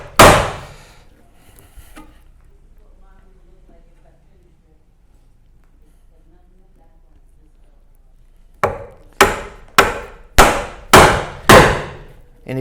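A steel chisel is driven into wood with a mallet at a Moravian workbench, giving one sharp strike, a long pause, then six loud evenly spaced blows close by, each ringing briefly.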